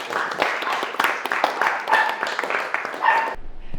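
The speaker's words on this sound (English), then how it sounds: "Let's give her a round of applause to Miguel" Applause from an audience at a business gathering in Eastern Europe, a steady patter of clapping for about three seconds that cuts off abruptly, with a few voices and whoops mixed in.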